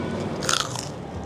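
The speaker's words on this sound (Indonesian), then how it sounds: "Kerupuknya kriuk" Biting into crispy kerupuk crackers served with spicy gado-gado: a few sharp, close crunches in quick succession over a faint background hiss, with no talking.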